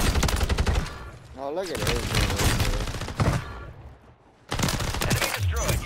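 Renetti pistol fire in Warzone, with loud rapid bursts of shots separated by brief pauses, mixed with a voice talking over the gunfire.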